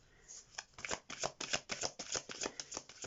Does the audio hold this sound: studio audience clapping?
no